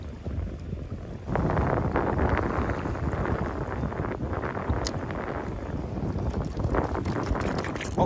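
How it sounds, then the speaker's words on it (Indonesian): Strong wind gusts roar steadily across a rocky shallow sea cliff on the coast, a loud broadband rush that surges after a quieter first second and holds without talk. "Sayang kencang sekali angin, bos."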